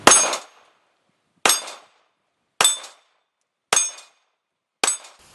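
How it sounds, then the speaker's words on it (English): A full 15-round magazine is slapped home into an FNX 45 pistol, five separate sharp metallic clacks spaced about a second apart, each with a brief ringing tail, close and crisp with no talking. "slapping the new magazine home, even fully loaded, 15 rounds"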